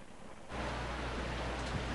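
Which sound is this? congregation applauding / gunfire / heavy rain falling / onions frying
heavy rain falling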